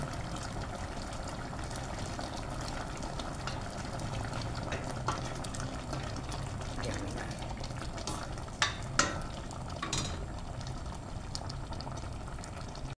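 Mung beans and mixed vegetables sautéing in a pan for a Filipino ginisang mongo, a steady close sizzle and fry with a few sharp clanks of a utensil against the pan, no voices.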